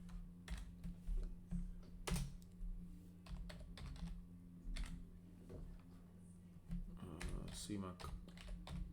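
Rapid typing on a computer keyboard during a stock-market trading recap, with irregular bursts of crisp key clicks close to the microphone and someone briefly speaking over them.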